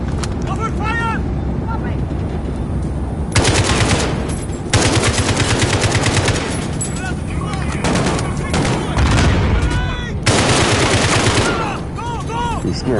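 Gunfire in the Modern Warfare campaign: loud, continuous rapid automatic bursts with heavy shots layered over a steady battle din throughout.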